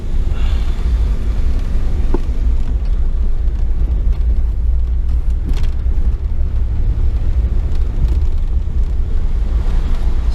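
A 1993 Ford Explorer driving with all windows down, steady road rumble and wind buffeting filling the cabin continuously, loud and close with no talk.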